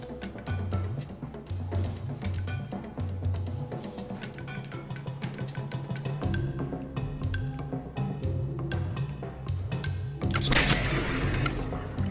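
Underwater gunfire aimed at the Lusca boss in Stranded Deep, a string of short shots over a steady game-music bed and a deep rumble, with a louder burst near the end.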